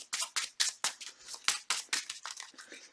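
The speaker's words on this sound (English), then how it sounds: "Let's shuffle our encounter deck" An encounter deck of game cards is shuffled up close in a quick run of crisp riffles and flicks, about a dozen bursts at a fairly even rhythm.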